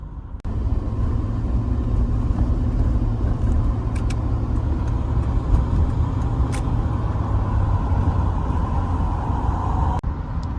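Steady low engine rumble and road noise from inside a moving truck cab, loud and continuous with a few faint clicks and no talking.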